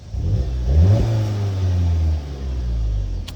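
A Volkswagen GTI S engine with a stage 1 tune revs loudly nearby, rising sharply then holding a deep rumbling roar before easing off briefly and picking up again.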